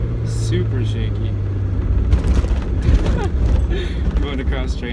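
A Mazda Miata rolls over train tracks with rumbling, thumping jolts and rattles over a constant road and engine drone, heard from inside the car while someone talks.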